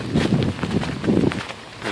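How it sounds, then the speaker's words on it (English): Footsteps crunching and squelching through slushy snow during a city snowstorm in New York, several close, soft steps in quick succession. "you hear how slushy it is,"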